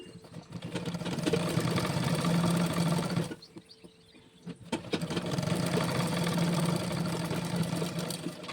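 Sewing machine stitching the inner and outer layers of Punjabi dress pants together, a steady close motor whir with rapid needle clatter that pauses for about a second midway, then resumes.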